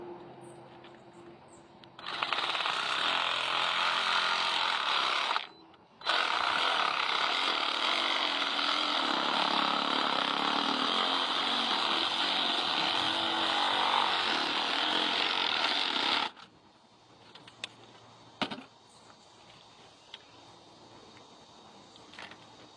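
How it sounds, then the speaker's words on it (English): Sawzall reciprocating saw cutting through PVC pipe, a loud harsh buzzing run of about fourteen seconds with one brief pause, followed by quieter handling clatter. "I'll use the Sawzall again."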